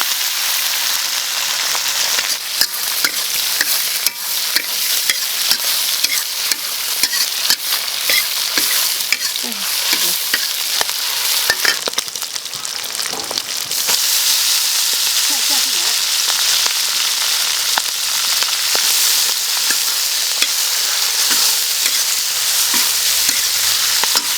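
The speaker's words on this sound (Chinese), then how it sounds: "这菜给先炒一下啊。" Vegetables stir-fried in a wok with a loud, dense sizzle and constant crackle, broken by rhythmic scraping and tossing clicks, heard close up over a long stretch without talk.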